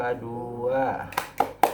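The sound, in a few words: rhythmic clapping of P2K2 yel-yel chant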